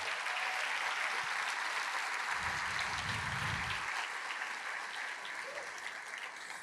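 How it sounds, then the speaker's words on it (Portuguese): A church congregation claps for Jesus in a strong round of applause, a broad, fairly quiet wash of many hands, steady and gradually fading, with a brief low rumble partway through. "Dê para Jesus uma forte salva de palmas."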